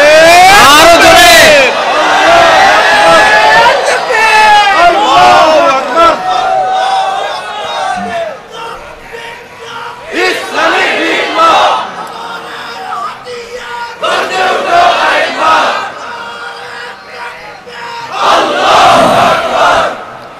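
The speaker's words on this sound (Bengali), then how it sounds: "আমাদের স্লোগান হলো নারায়ে তাকবীর। জোরে, আরো জোরে" A large crowd chants the Naraye Takbir slogan in loud, surging collective shouts that come in repeated waves, with a voice leading between the roars.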